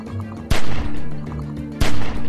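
Two sharp, loud gunshots about a second apart in The Walking Dead: 400 Days video game, each a sudden close crack over a low game ambience.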